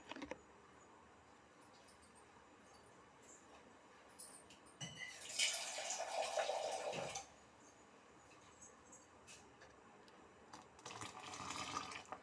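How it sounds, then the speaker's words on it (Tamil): Water being poured into a pot of butter while making ghee, a running, splashing pour that swells for a couple of seconds mid-clip and again near the end over a quiet kitchen background. "கொஞ்சம் நார்மல் வாட்ரு இதில் சேர்த்துக்கலாம்"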